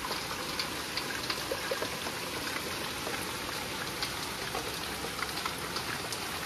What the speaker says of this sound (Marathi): खूप बाहेर पाऊस पडतो दिसतो तुम्हाला बघा